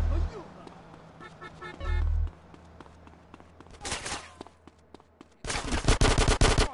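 Bursts of gunfire in GTA San Andreas on PS4: a few rapid sharp shots, a tight cluster midway, then a long loud continuous machine-gun volley near the end, with scattered thuds between.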